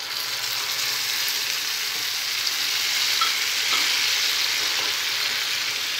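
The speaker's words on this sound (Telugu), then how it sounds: "తాలింపు ఫ్రై అయిన తర్వాత మనం ముందుగా నూరుకున్న పచ్చడి వేసుకోవాలి." A ground cucumber and raw tamarind chutney is stirred into a frying tempering in a pan. A loud, steady, hissing sizzle runs the whole time without a break, and no voices are heard.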